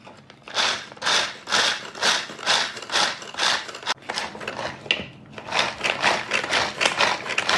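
An electric chopper chops dry fruits for healthy dry-fruit laddoos, its motor whirring in rapid regular pulses, about a dozen short bursts spread steadily across the stretch with a brief pause near the middle, loud and close with no talking.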